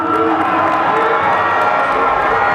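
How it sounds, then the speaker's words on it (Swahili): A large crowd at a Young Africans football club event cheering loudly and continuously for a sponsor on stage, a dense roar of voices with clapping mixed in. "Ghalib Said Mohamed, tumpigia makofi yuko jukwani."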